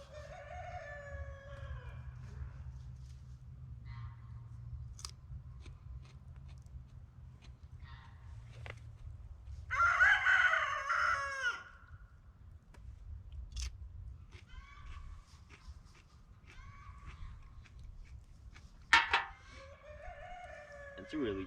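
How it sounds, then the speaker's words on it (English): Chickens at Strugglers Farm cluck and cackle in drawn-out bursts, one loud squawking outburst near the middle and another toward the end, with a low steady background hum beneath. "Sounds like they're laying eggs"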